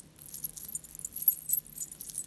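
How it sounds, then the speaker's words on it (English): Faint, continuous metallic jingling of a belly dancing anklet's small bells or chains, light and shimmering, with a low hum underneath. "Is this the belly dancing anklet or something? It has that noise, doesn't it?"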